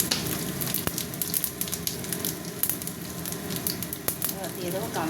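Whole cumin seeds sizzling in hot oil in a pan, a steady close crackle with a few sharper pops scattered through.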